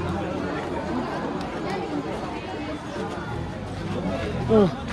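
Dense festival crowd chatter fills a busy Ganpati pandal area near the Parel Raja in Mumbai, a steady hubbub of many voices with a brief louder shout near the end.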